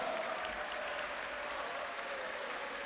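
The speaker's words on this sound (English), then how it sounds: "a round of applause for both fighters who gave their all" An audience at a live boxing fight night applauds both fighters after the bout, a dense, even wash of clapping that holds steady at moderate loudness throughout, heard from within the crowd with no distinct voices.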